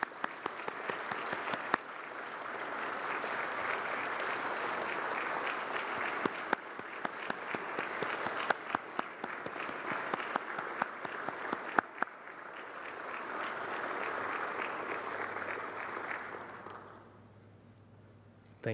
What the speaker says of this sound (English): Could we get a round of applause, please, for our 3 Stars of Tennessee Award recipients?